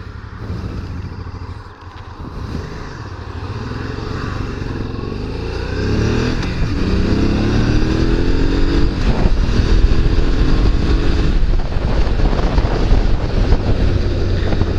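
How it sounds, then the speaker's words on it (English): A Honda Transalp 650 motorcycle engine drones steadily while riding, rising in pitch as it accelerates, with heavy wind rushing across the microphone. "Very light motorcycle."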